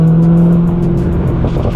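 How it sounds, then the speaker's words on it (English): A tuned 900 hp Corvette ZR1 C6 running on E85 with a burble tune idles close by, its exhaust a loud, deep, steady rumble with a faint rough crackle near the end. "there it is, the burble"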